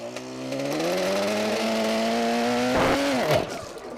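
A classic car's engine, pulled from long storage with a seized clutch, idles and revs steadily with rising harmonic drone, then two sharp throttle blips near the end; close and loud, no talking.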